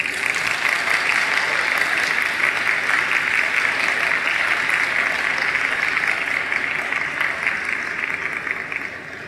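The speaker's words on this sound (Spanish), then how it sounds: "Démosle un fuerte aplauso." Loud, sustained applause from a large audience at a university academic ceremony, an even roar of clapping that holds steady and eases slightly toward the end.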